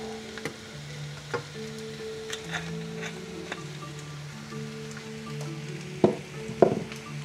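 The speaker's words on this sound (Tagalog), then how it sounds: "magpipirito na tayo ng itlog. So, gagamitin natin mantika ay olive oil" An egg fries in olive oil with a soft sizzle broken by scattered crackles and a few louder pops near the end, over a steady low hum, with no talking.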